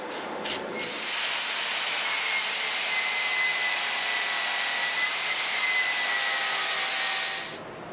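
A wire brush scrubs a hot forged steel blade, giving a loud, steady harsh hiss of bristles rasping across metal that holds for about six seconds after a few brief scrapes, then trails off.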